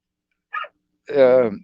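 Dogs at a house beside the woods give a short yip followed by a longer, louder bark, close by and sharp against an otherwise silent background.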